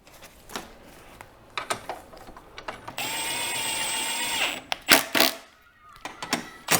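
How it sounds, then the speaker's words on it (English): Power driver whirs steadily for about a second and a half as bolts are run back into the crossbar and intake box of a RAM TRX, surrounded by clicks, clanks and handling noises. "we will get all of the bolts that we pulled out for the crossbar and at the front of the intake box back in"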